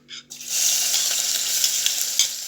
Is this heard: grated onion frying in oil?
yes